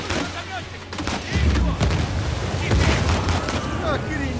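Rapid gunfire and heavy booms from combat in the video game Uncharted 4, bursts crackling over a low rumble, with speech over the top.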